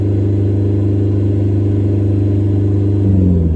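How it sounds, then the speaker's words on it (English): A car with a big, noisy exhaust drones loudly and close at steady revs, its deep rumble holding for a few seconds before a brief swell as the throttle lifts slightly near the end. "hear that big noisy exhaust?"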